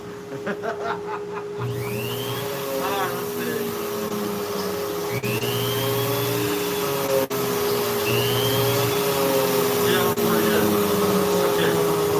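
A rotary carving tool with a Kutzall burr carving wood runs as a loud, steady electric whine throughout, while someone talks and laughs over it.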